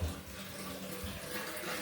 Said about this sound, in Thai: น้ำไหลดีแล้ว